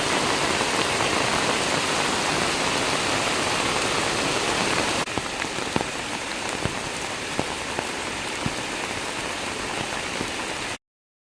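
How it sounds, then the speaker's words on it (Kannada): Heavy rain pours steadily on an areca nut plantation, a dense continuous hiss, with sharper drips and taps striking a surface in the second half before it cuts off. "ನೋಡಿ ಮಳೆ ಜೋರು ಬರ್ತಾ ಇದೆ"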